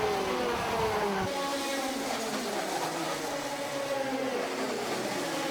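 TKM Extreme class racing karts at a SuperPrix event at Shenington, engines buzzing loud and close in a continuous high whine that rises and falls as the karts pass, no voices.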